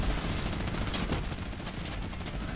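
Rapid automatic gunfire from a battle royale video game rattles continuously and loudly, with dense overlapping bursts filling the clip.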